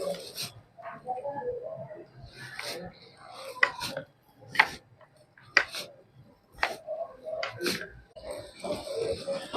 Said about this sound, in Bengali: ডালটা এবার আমি সাইজ করে আমি কেটে নেবো।